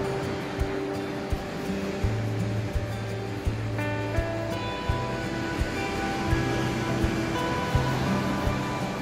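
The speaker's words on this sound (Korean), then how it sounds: "하얗게 일어나는 파도" White breaking waves roll against the breakwater at Seogwipo, Jeju, in a continuous broad roar of surf with soft low rumbles and light clicks running under it, and no talk.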